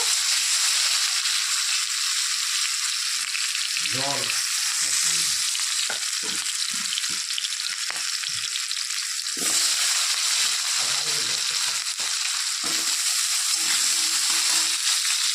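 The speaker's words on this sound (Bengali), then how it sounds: "তো এর মধ্যে এখন আমি কেটে রাখা আলুগুলো ভেজে নেব।" Potato pieces rubbed with salt and turmeric fry in hot oil in a pan, giving a loud, steady sizzle throughout, with occasional stirring scrapes and clinks near the start.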